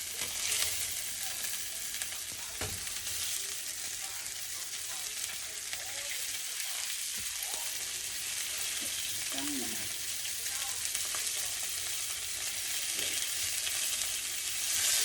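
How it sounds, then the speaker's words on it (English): Cabbage sears in a very hot pan for a char, giving a loud, steady, dense sizzle throughout, with brief stirring or scraping sounds, close up. "I just want to get a really good char on it, and that's why you want a really hot pan"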